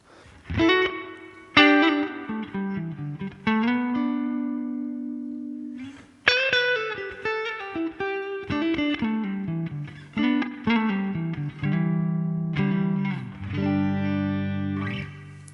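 Electric guitar notes and chords ring out through a Fender Twin amp model in a Helix, each phrase swelling into a long, lush reverb tail that lingers between strums.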